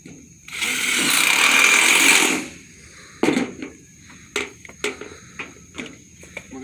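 A power driver drives screws into cheap roofing panels for an awning, with one long whirring burst followed by several short, sharp buzzes and clacks spaced a second or so apart.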